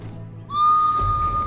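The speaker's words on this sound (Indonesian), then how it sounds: "prajurit langsung meniupkan peluit" A whistle is blown once, a sharp steady high tone that starts suddenly after a quiet moment and holds for about a second.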